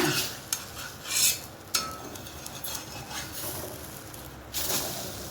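A bread omelette turned over in a pan, with a few sharp scrapes and clinks of a utensil against the pan over a soft, steady sizzle, close and fairly quiet.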